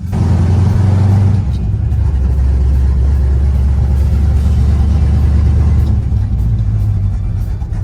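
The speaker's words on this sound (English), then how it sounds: "let's go take Jesse's car for a spin." A 1968 Dodge Charger with a swapped Hemi engine drives along, heard from inside as a loud, steady low engine rumble with a droning tone that shifts slightly as the car cruises. No one speaks.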